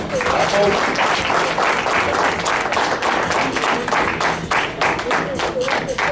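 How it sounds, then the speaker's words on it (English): Loud, sustained clapping from a community gathering audience at a Liberian Independence program, honoring a local man, with dense overlapping handclaps close by and steady throughout, some crowd murmur beneath. "So please clap for him."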